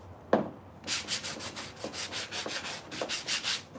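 Hand sanding of scrap wood: after a single knock, rhythmic back-and-forth scratchy strokes repeat steadily at close range, moderately quiet, with no talking.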